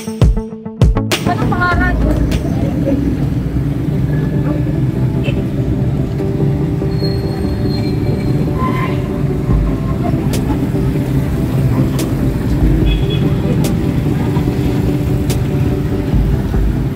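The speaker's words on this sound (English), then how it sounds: "Traffic ko ngayon." City traffic of tricycles and motorbikes in Sorsogon City streams past as a steady, loud rumble of engines and road noise, continuous throughout with faint voices mixed in.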